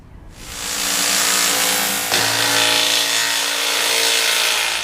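A power tool, likely an impact driver, runs steadily, loud and close, removing the two small bolts that hold the seat on a race tractor during a rebuild. There is a brief catch near the middle, and no talking.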